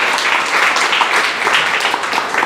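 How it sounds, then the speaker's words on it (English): At a startup pitch event, an audience gives the judges a round of applause: dense, continuous clapping from many hands fills the room, loud and even throughout. "Can you have another round of applause for our fantastic judges, everyone?"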